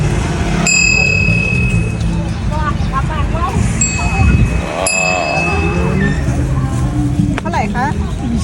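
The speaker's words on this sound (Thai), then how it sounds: "กระดิ่งกระดิ่ง" An ice cream vendor's hand bell rings at Nong Prachak, a few bright metallic dings spread apart over busy outdoor ambience, with people talking nearby throughout.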